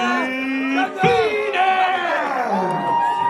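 A wrestling crowd at a Nordic Elite Wrestling show reacts as a wrestler enters, with mixed shouting, whoops and jeering voices rising and falling, fairly close.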